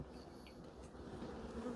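Honey bees at an open hive hum in a soft, steady drone, low and continuous without pause, with no voices over it.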